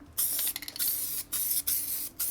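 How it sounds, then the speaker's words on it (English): Spray adhesive hisses onto a motorcycle saddlebag lid in several close bursts, short sprays broken by brief pauses, loud and alone without talk. "And then spray the rest of the lid."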